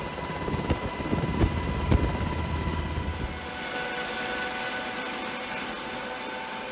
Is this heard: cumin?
no